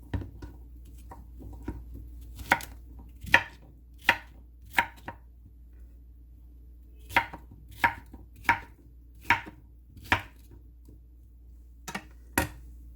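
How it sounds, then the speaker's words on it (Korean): A knife chops zucchini into bite-size pieces on a cutting board in quick bursts of crisp taps, pausing between runs, over a low steady background hum. "한입 크기로 이렇게 다 잘라줍니다"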